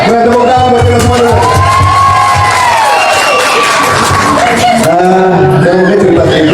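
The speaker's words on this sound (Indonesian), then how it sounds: "tepuk tangan buat kita semua" An audience at a neighbourhood gathering in Jakarta cheers and whoops loudly, many voices shouting together with some clapping, close and continuous throughout.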